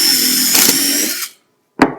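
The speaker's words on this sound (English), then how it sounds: "and you drill your hole" A power drill whirs steadily for just over a second, drilling a 1/4 inch pilot hole into a wooden handrail through a drill guide, then stops; after a brief silence, a short sharp knock or clatter follows.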